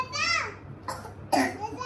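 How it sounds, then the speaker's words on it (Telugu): A small child with a dry cough coughs a few times in short bursts, close by, with a voice around. "ఇట్లాంటి దగ్గు వస్తుంది."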